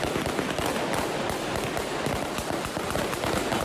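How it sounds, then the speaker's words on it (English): Gunshots fired into the air by Taliban officials to disperse a women's protest in Kabul, a rapid crackling series of sharp reports in quick succession, loud and dense like a burst of automatic fire. "Taliban officials fired gunshots into the air to disperse a rare women's protest in Afghanistan's capital of Kabul."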